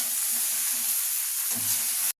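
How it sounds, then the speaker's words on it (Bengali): Homegrown bottle gourd fries in a pan with a bright, close, continuous sizzle, a brief stirring scrape near the end before it cuts off abruptly. "লাউটাকে ভাজা ভাজা করে নেব"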